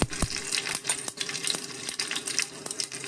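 Mustard seeds dropped into a hot pan over a low flame, rattling and popping in quick sharp ticks and crackles against the metal, close and steady with no talking.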